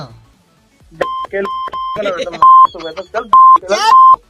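Telephone line tones as a call cuts off, a series of loud, steady beeps repeating in short bursts while people talk and laugh over and between them.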